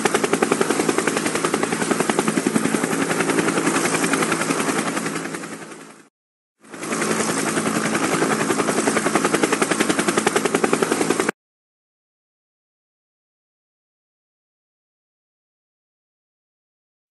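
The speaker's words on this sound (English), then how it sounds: "let's get in the other helicopter and get to Lola J's universe right away" A helicopter's rotor and engine roar steadily and loudly up close, broken by a brief dropout midway, then cuts off abruptly into silence.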